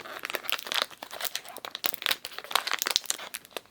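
Packing tape on Beyblade random booster packaging is peeled and torn, giving loud, close crinkling rips in quick, irregular bursts, with no voice.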